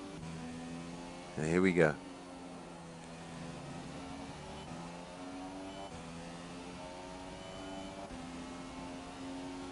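A race car engine in an online racing game holds a steady mid-pitched drone at full throttle with layered harmonics. Someone talks briefly over it near the start, and a short sharp rise cuts through early on.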